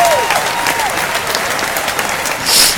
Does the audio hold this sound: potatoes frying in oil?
no